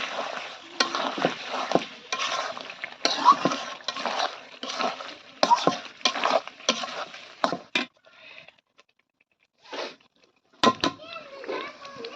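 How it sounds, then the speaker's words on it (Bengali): Duck meat going into a pan of cooked-down spice paste, with bursts of stirring and scraping over a steady sizzle that stop abruptly, leaving near silence broken by one more clatter. "মশলাটা কষানো হয়ে গেছে এখন আমি গোস্ত দিয়ে দিব"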